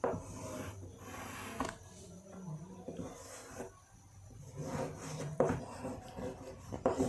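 Chalk or marker scratches and rubs across a board during a biology lecture, in short irregular strokes with pauses between, fairly faint and close, with no speech.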